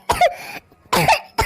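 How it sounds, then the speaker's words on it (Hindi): A woman in an Awadhi cartoon comedy, suffering from a lingering cough, lets out two sharp, close coughs separated by a short pause, and a third cough begins at the end. "खाली खांसी आवत है बा।"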